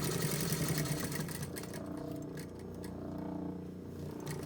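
A sewing machine stitches a shirt seam, giving a steady mechanical whir with a low hum that runs through the whole stretch at a moderate level.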